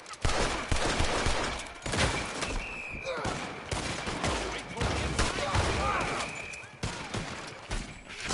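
Rapid gunfire from a weapon in a video game comes in repeated bursts and volleys over a busy game soundscape, with a player's voice talking at times.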